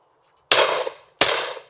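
Two loud, close shotgun blasts fired at driven clay targets, each a sharp crack with a short decaying tail, about three-quarters of a second apart.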